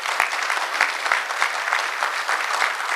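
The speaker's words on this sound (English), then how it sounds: "So I think we should all give him a big round of applause too." A crowd at a fundraising event claps steadily, a sustained burst of applause with individual sharp claps standing out, fairly close and loud.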